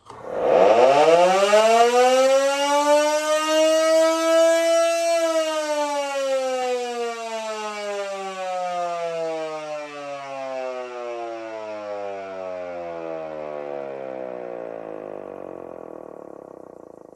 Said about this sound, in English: Siren runs on 240, and I'm going to try it at half voltage, so we'll see how it sounds